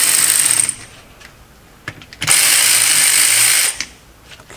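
Power ratchet tool driving long screws on a 2003 Polaris Sportsman 500 after an engine swap: two loud, close whirring runs with a brief clicking pause between them, no talk.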